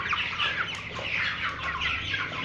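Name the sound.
sick chickens sneezing and gasping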